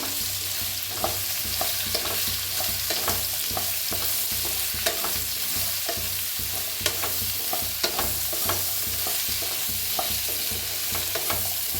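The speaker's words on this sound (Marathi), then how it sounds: "भाजून भाजून घेऊया भेंडीला." Sliced okra roasts in a pan with turmeric, a steady soft sizzle punctuated by repeated scraping stirs and clicks of a spoon, close and without voices.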